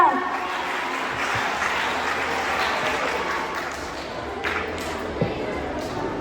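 Loud, sustained applause from an event audience for a singer after his performance, a dense steady wash of clapping lasting throughout with a few sharper claps standing out.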